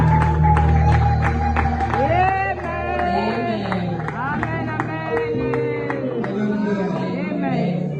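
A church congregation in Brussels claps and cheers during a New Year's Eve service. Rapid clapping and crowd noise run under loud, ringing voices calling out and talking.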